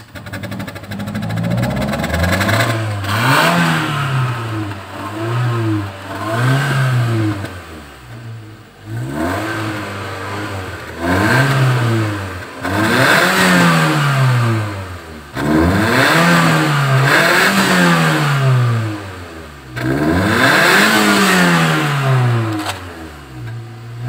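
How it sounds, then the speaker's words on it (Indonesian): A Kia Carens II engine is revved hard again and again during tuning, each rise in pitch climbing and falling back in a steady series of loud, close bursts with brief dips between them. "kita lanjut tuning, tapi gas kita tahan dulu di RPM 2000"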